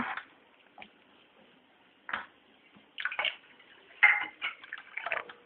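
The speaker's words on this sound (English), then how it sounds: "Meanwhile, we can add water" Water is poured into a pot of dal for sambar, heard as a few short, quiet splashing bursts separated by near-silence in a home kitchen.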